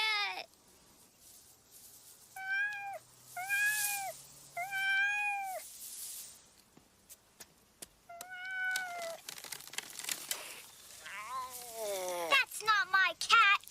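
A cat meows repeatedly in short, rising-falling calls arriving in clusters with pauses between them, close and clear, ending in a quicker run of cries.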